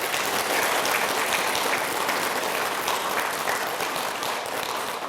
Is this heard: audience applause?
yes